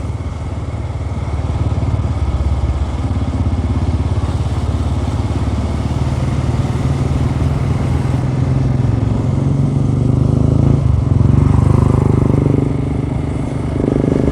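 A loud, continuous drone of about eight motorcycles riding along a road toward Valparai, engines rumbling close by with occasional rattling and slight swells in intensity.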